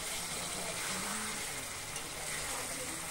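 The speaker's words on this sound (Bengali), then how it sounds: "মাটনটাকে আমরা ভালোভাবে কষিয়ে নেব।" Mutton sizzling and frying in a pan while being stirred for a braise, a steady close hiss with soft scraping and bubbling throughout.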